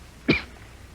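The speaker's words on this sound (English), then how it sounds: "She was a tall, good-looking girl with blonde hair and a bad cough." A young woman gives a single short cough, close and moderately loud against a quiet hiss of background noise.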